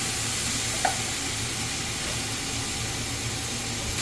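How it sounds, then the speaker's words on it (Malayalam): Beef biryani masala is stirred in a pan, a steady close sizzle and hiss running throughout with one brief scrape of the utensil early on. "ഇനി നല്ലവണ്ണം അങ്ങോട്ടും ഇങ്ങോട്ടും ഇളക്കി കൊടുക്കണം"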